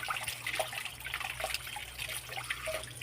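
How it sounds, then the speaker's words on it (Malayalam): Tap water runs over crab being rinsed at a kitchen sink, a soft steady trickle and splash with faint drips, close but quiet, no voices. "ഇത് നമുക്ക് ടാപ്പിൻ്റെ അടുത്ത് പിടിച്ചാൽ ഇതിങ്ങനെ കഴുകി പോക്കോളും."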